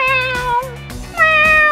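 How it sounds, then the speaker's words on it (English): A toy cat from a Paw Patrol playset gives two loud electronic meows, each a bright drawn-out tone separated by a short pause. "Is that a meow, meow? Oh, it sounds like a cat."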